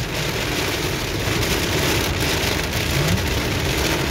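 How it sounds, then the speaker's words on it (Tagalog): Heavy rain pounds a car while driving in Saudi Arabia, a dense, steady roar of drops on the roof and windshield that holds evenly throughout with no talking. "halos hindi mo na makita magiging sa kalsada dahil sa lakas ng ulan"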